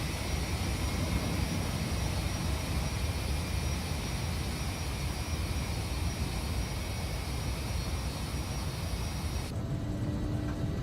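Steady, dense roar of Embraer E145 jet engines while taxiing in the X-Plane 11 flight simulator, constant and loud throughout with a whining tone on top, cutting partly quieter near the end.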